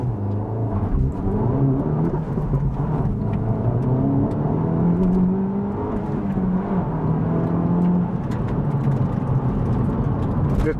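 A Honda Civic Type R FL5 launches from a standstill, its engine a steady mid-volume rumble and whir as it pulls away, heard from inside the car without talk.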